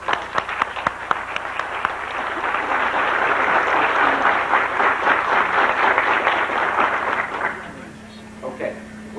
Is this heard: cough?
no